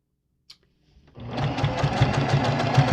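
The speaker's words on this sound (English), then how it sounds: "I'm going to have to come back over here and sew that up." A sewing machine stitching a floss wallet starts up after a faint click and then hums steadily and close, with a fast rhythmic needle patter.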